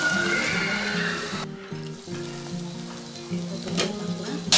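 Prawns frying in a pan while being stirred, a loud hissing sizzle that briefly dips midway before rising again, with some tonal sounds layered over it.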